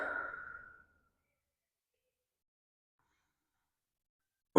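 A single soft, close exhale, like a sigh, comes during a hip mobility stretch and fades within a second, followed by near silence.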